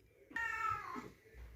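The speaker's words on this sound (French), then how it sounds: "je reviens parce qu'il miaule" Indoors, a cat lets out one clear meow of under a second, faint and close amid soft room noise.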